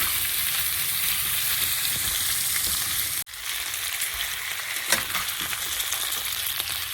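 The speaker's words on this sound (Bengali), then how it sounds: "এটাকে একটু ভেজে নেব ভালো করে" Giant taro (maan kochu) and potato pieces frying in oil give a dense, close sizzle that briefly drops out midway and then resumes, with occasional stirring clicks and no speech.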